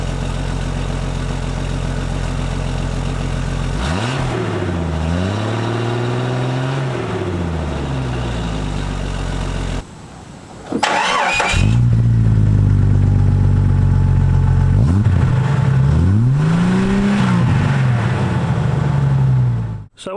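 A 1998 Jeep Cherokee XJ with a Magnaflow muffler idles loudly, then revs up and settles back down twice. The revs are deep and swelling, close by, with no talk over them.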